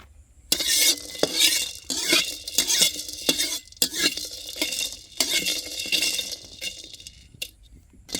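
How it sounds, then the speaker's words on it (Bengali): Whole spices for beef kacchi biryani crackle and sizzle in a hot karahi in repeated bursts as a utensil stirs and scrapes, with occasional metallic clinks. "মশলা ভাজা চলছে"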